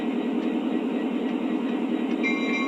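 A Lionel Legacy Norfolk Southern SD60e model diesel locomotive plays its sound set: a steady, loud engine and rail rumble, with a brief sustained horn-like tone entering near the end. No talking.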